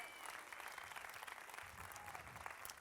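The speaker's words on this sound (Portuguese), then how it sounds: "ele merece essa salva de palmas" A church congregation applauds in a steady, dense wash of clapping that holds at an even level throughout, with no voices rising above it.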